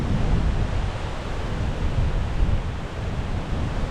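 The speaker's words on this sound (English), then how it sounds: "This wind is nuts." Strong crosswind roaring steadily across the microphone during a bikepacking ride, a dense continuous rumble and hiss with gusty swells, loud and close throughout, no talking.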